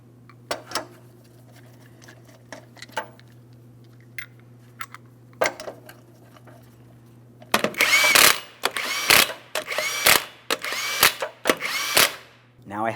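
Power impact tool spinning down the 21mm lug nuts on a wheel of a 2003-2008 Toyota Matrix: a quiet stretch of light clicks and taps, then a run of loud, close, repeated short buzzing bursts.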